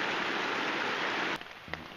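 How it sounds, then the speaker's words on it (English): Steady rain falls in a backcountry forest in the Great Smoky Mountains, a dense, even hiss that cuts off abruptly near the end, leaving a quieter patter with a few soft knocks. "Well, it's raining."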